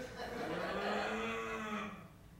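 A man imitates a cow with his voice during an improv comedy scene, producing one long, low, drawn-out moo that holds steady for about two seconds before fading.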